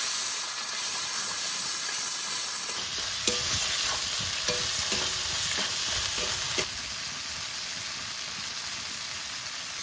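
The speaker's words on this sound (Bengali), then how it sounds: "এবার মশলা একটু কষিয়ে নেব ভালো করে" A spice paste of ground green and dry chillies with salt and turmeric fries and is stirred in a pan, giving a continuous hissing sizzle broken by several sharp scraping strokes of a spoon.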